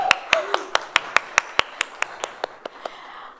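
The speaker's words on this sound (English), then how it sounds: "Give us a big round of applause." A small audience clapping at a talk, sharp separate claps in a fairly even rhythm that thin out and fade over a few seconds.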